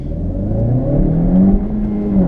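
A 2017 Honda Civic Hatch engine revs up and pulls hard under acceleration, a steady rising drone heard from inside the car with no talk over it.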